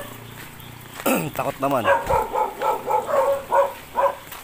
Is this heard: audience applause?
no